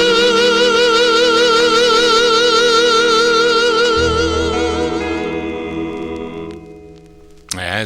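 A 1956 vocal group record plays loud and full, with sustained vibrato harmonies over a steady backing; the final chord rings out and fades before a brief sharp burst at the very end.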